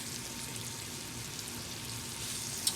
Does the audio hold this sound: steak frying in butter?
yes